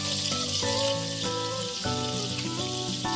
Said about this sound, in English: tablespoons of butter, and that's going to go in with that good bacon grease right there.